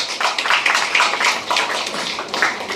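An audience claps steadily at a Tamil book launch ceremony, a dense, close burst of hand claps that holds at an even level for a few seconds.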